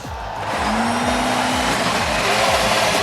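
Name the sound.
race car engines starting at the Indianapolis speedway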